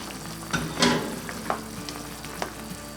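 Pumpkin curry ingredients fry in a pan as Cheongyang chili peppers go in, a soft steady sizzle with a few louder crackles and clatters from stirring, no voices.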